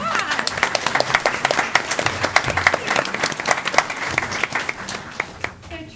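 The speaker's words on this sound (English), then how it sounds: "Let's give her a big round of applause." Audience applause for a student receiving a certificate at a school board of education meeting, a dense, steady clapping from a room of people lasting several seconds and fading slightly at the end.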